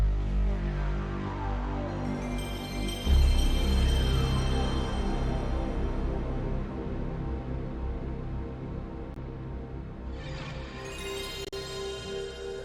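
Startup sound of an original Sony PlayStation console: a deep swelling synth tone that builds into shimmering chimes and sustained pads, loud and alone with no talk, fading near the end before a bright final flourish.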